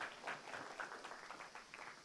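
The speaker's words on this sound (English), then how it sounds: "Huge, huge round of applause." Audience applause at a commission meeting, a steady, moderately faint patter of many hands clapping that continues throughout without a break.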